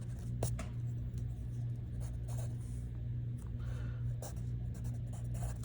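Pen strokes scratch out numbers by hand while working a multi-step equation during a maths lesson, a steady series of short, close scratches over a constant low hum.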